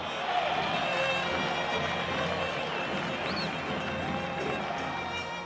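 Football fans in a Paraguayan stadium celebrate a Gumarelo goal in a Guaraní–Olimpia or Libertad–Cerro match, a dense, sustained crowd roar with cheering and whistles.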